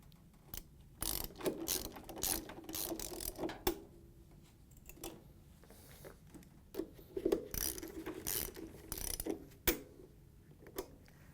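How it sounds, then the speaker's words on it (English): A socket ratchet clicks in quick bursts while tightening nuts that clamp a Frigidaire/Electrolux washing machine inner tub assembly, with close, sharp ratcheting separated by pauses in a quiet room. "we're going to take the socket and tighten down the nuts so it clamps it into place"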